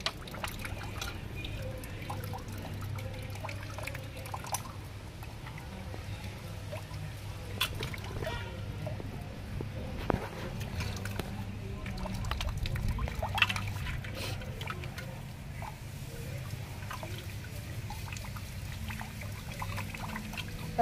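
Tap water runs steadily while pomfret fish are washed clean, a continuous close trickle and pour with small splashes and no talk.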